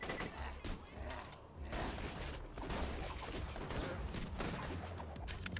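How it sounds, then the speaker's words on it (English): Gunfire in the video game Borderlands, dense bursts of shots rattling through a busy, loud mix that stays steady for several seconds. "Who the hell was shooting at me?"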